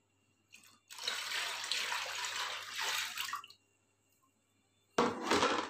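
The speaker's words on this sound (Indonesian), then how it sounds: "Nah, ini molasenya kita campur dengan air cucian beras." Rice washing water being poured and mixed with molasses, a steady close splashing and pouring rush lasting a few seconds, stopping, then a short second burst of liquid.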